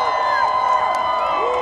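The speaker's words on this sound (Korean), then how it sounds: "여러분의 뜨거운 박수와 함성으로 맞이해 주십시오." A crowd cheers and shouts at an outdoor presidential campaign rally in Pohang, South Korea, forming a continuous, loud wall of voices with whistle-like tones running through it.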